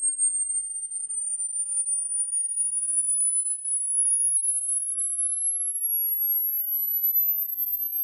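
A single pure high-pitched sine test tone from a cheap Temu Bluetooth speaker glides slowly and steadily upward for several seconds toward 8 kilohertz, thin and piercing, with nothing else around it.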